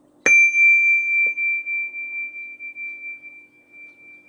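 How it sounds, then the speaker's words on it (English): A meditation bell struck once, its clear pure tone ringing out and slowly fading over several seconds in a quiet room, with a faint second touch shortly after the strike. "When you detect the vibration of my bell"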